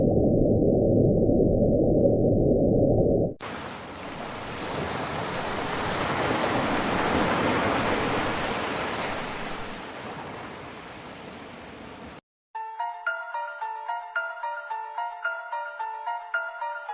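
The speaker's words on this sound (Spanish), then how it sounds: "Julia es un sonido grabado en las profundidades del mar el 1 de marzo de 1999." The Julia sound, an underwater recording made in the deep sea in 1999, heard as a loud, steady wash of broadband rumbling noise lasting several seconds, framed by a low droning tone before and a pulsing, tonal pattern after.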